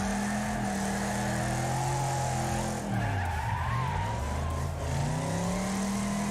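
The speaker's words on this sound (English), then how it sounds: "Doing some mega drifting in a muscle car." A muscle car drifts in the Wreckfest racing game, its loud, steady engine roar dipping and climbing in pitch as the revs change. Continuous tire skidding and squeal run underneath for the whole stretch, close and unbroken, with no voices.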